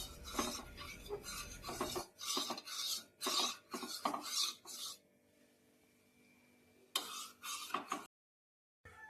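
A metal spoon stirs sugar into a cup of coffee, scraping and clinking in quick rhythmic bursts close by, then quiet before a final short stretch of stirring.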